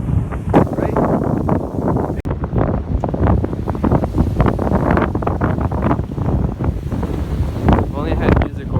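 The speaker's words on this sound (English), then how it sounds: "So this is just trying to see all this wind is not working out" Strong gusty wind buffets an outdoor microphone at a school trail, a loud continuous rumble with rising and falling blasts filling the whole stretch.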